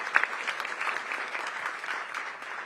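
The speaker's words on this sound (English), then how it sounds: "So give them a big round of applause." Audience applause at a city budget presentation by the DC mayor, a moderate, steady clatter of many hands heard from some distance, with no speech over it.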